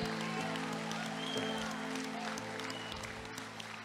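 Applause from a congregation during a church sermon, a steady wash of clapping lasting several seconds and gradually fading, with a low hum underneath.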